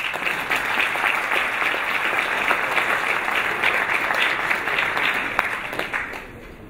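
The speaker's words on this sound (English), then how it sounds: "So another big round of applause." Audience at a JavaScript developer conference giving a round of applause, dense steady clapping from many hands, loud and continuous before tapering off at the end.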